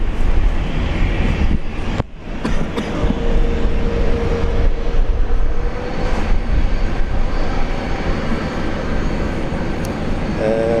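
Jetstar passenger jet taking off at Brisbane airport, a steady loud engine roar filling the whole stretch with a broad rumble, no talk over it.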